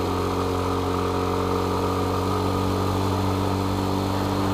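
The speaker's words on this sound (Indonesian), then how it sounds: "Sumpah nih motor kalau diobrak dikit aja udah kenceng sih." A Yamaha Jupiter Z Burhan motorcycle engine from 2009 runs loud and close, a steady rumbling drone that holds its pitch throughout with no clear revving surges.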